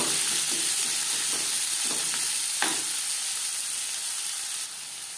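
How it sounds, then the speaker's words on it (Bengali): Chopped onions frying in oil left over from frying tilapia fish: a loud, constant hissing sizzle with a few stirring scrapes, close up, easing slightly near the end. "মাছ ভেজে নেওয়া তেলে দিয়ে দেব পেঁয়াজ কুচি"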